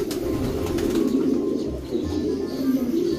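Pigeons in a loft coo in a steady low murmur with faint bird calls, close and continuous throughout, no talk.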